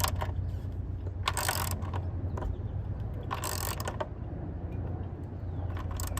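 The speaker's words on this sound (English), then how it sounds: "So, what is going on with my ratchet?" A ratchet wrench tightens the battery tie-down on a 1995 Mustang GT, clicking in repeated quick bursts of strokes over a low steady hum, close and fairly quiet, with no talking.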